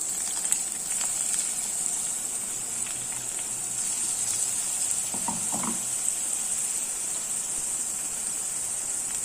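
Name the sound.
onion garlic paste frying in a pan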